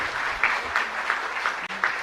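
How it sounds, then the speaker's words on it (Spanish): Congregation applauding in a chapel during a live-streamed service, a soft, steady wash of many hands clapping at moderate distance, continuous for a couple of seconds with no voices over it. "Fuerte aplauso entonces para todos ustedes."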